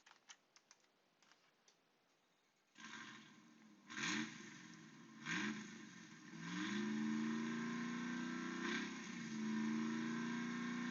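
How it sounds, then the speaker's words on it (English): A supercharged 2021 Ram 1500 TRX truck engine cranks and catches, then revs several times with rising whine before settling into a loud, steady idle with a high supercharger whine; light clicks come first. "can we start the engine up? Let's press this button and see what happens."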